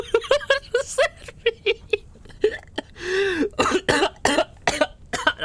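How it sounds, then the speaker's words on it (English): A rapid series of harsh coughs and throaty hacking bursts, close and loud, with a longer strained gagging sound in the middle and no clear speech. "I'm coughing up black sludge."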